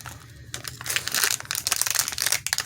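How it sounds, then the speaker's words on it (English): Plastic packaging from nail products crinkles and rustles in close, loud, uneven bursts as it is handled during an unboxing. "Sorry for the crinkling."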